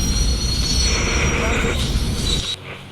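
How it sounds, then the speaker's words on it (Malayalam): Goods train rolling past in the Indian Bike Driving 3D video game, a steady loud rumble with a thin high metallic whine, dropping away abruptly near the end. "ഇത് ചരക്കോണ ട്രെയിനാണ്"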